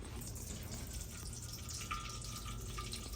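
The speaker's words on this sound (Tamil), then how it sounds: "நாங்கள் உடனே எண்ணெய் ஊற்றுவோம்" Cooking oil is poured into a pan for frying a sweet snack, giving a soft, steady liquid trickle that runs continuously and quietly for a few seconds.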